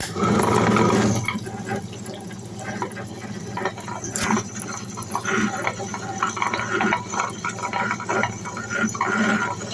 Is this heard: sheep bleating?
no